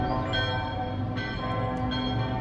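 Several church bells peal together on the hour in Lucerne, their overlapping strokes ringing continuously and fairly loud from nearby towers, with a steady wash of city ambience underneath.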